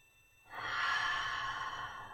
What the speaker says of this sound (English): Let's take 2 more breaths in your child's pose.